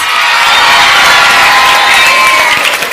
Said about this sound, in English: Let's all give applause.